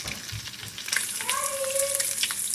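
Frozen bacon strips crackle and sizzle steadily in a pan, close and busy with dense popping, while a metal utensil briefly squeaks and scrapes as the pieces are shifted.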